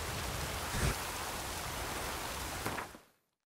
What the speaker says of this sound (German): Sieht nach Regen aus.